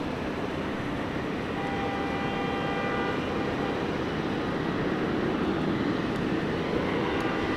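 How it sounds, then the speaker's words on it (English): A Qantas Boeing 737 departs Sydney Airport, its engines a steady, loud broadband roar that holds throughout with a low rumble and faint whine, no voices over it. "And there's a Qantas 737 departing here now."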